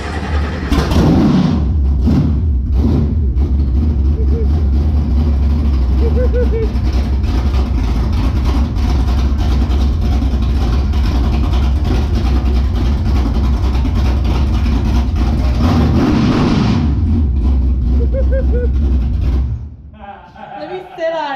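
A 2014 BMW 328d diesel wagon, rebuilt from a wrecked salvage car, runs with a steady low engine drone for about twenty seconds, then cuts off near the end.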